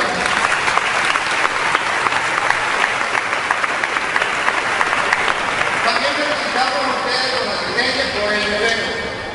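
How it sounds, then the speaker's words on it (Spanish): Sustained applause from a church congregation, dense and steady clapping throughout, with some brighter sharp claps rising toward the end. "Un aplauso para él."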